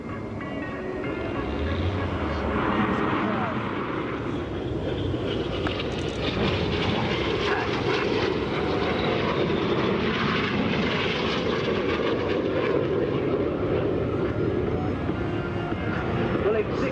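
Red Arrows RAF jets performing a vertical break during a flying display at the 2015 Sanicole Air Show, a loud continuous jet engine roar filling the whole stretch with crowd-level background noise.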